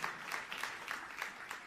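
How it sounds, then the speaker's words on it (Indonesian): A church congregation claps during a sermon, a steady wash of applause with faint rhythmic pulses, moderately distant and continuous throughout. "Tepuk tangan yang meriah untuk kemuliaan nama Tuhan."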